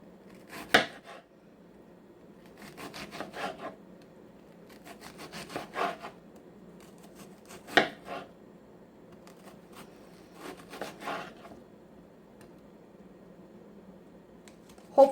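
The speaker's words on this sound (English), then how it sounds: "I am gonna cut that up. I'm just gonna do it in slices, as thin as I can." A knife makes repeated thin slicing strokes through an onion against a cutting board, in short close bursts with pauses between.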